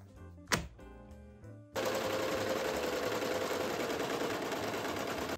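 A sewing machine stitching fabric for an outfit starts up after a brief thump, then runs in a loud, continuous, rapid mechanical whir to the end, close by and alone.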